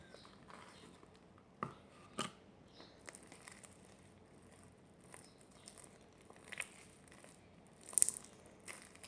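Quiet, sparse crunching and squishing, soft clicks and pops as clear blue slime with beads inside is pressed and poked, with a few sharper crackles near the end.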